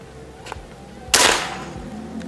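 An LDT Galaxy air rifle fires a single sharp, loud crack followed by a brief fading tail, with a faint click just before it.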